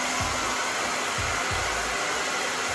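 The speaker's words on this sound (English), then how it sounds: "I'm gonna diffuse my hair on high medium heat" A hair dryer with a diffuser roars continuously on high-medium heat, a steady loud rushing whoosh with a few low thumps underneath and no voices.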